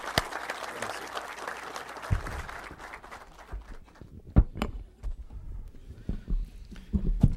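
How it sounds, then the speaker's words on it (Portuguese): Applause at a public hearing, a room of people clapping loudly at first and then thinning out into scattered claps and thumps. "Palmas para o meu amigo Ciro."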